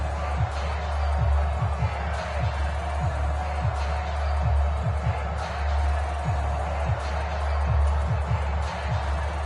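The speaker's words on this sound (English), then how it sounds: "Plenty of shouts from this crowd as they watch the replay." A stadium crowd in an American football video game, a continuous broad roar of shouting fans holding steady at moderate loudness, with a rhythmic low thumping underneath throughout.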